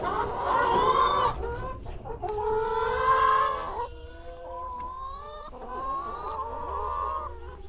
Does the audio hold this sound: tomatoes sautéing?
no